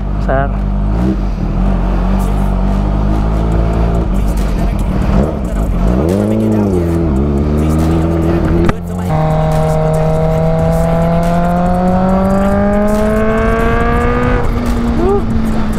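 A Kawasaki H2 motorcycle roars past close by, its high-revving engine climbing through gears with rising and falling pitch sweeps, loud and sustained before a brief dip and a fresh surge.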